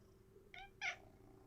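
Two short, close meows from a cat at a workbench, the second louder than the first, over a faint steady hum.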